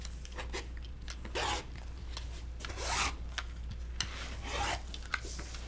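Scissors or a rotary cutter slice through quilt fabric from the corner, making a run of close, dry rasping strokes and short snips over a low steady hum.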